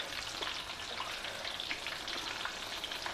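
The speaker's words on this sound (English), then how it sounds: "Gently slide them into the hot oil." Cut mirchi bajji fry in a pan of hot oil, giving a continuous, moderately loud bubbling sizzle with a dense crackle throughout and no voices.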